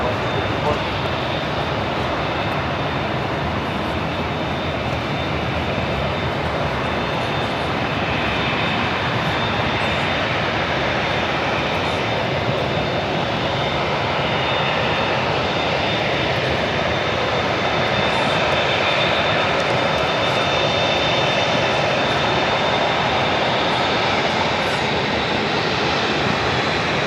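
A steady roar from an airliner taxiing at Los Angeles International Airport fills the air continuously, a broad engine rumble with a thin high whine, while voices talk over it.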